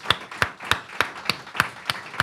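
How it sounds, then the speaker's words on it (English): Applause from an audience at a climate and anti-militarism forum event, heard as a steady run of sharp, evenly spaced claps that sound like only a few people clapping together. "So let's give them a round of applause too."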